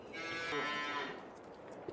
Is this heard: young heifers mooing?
yes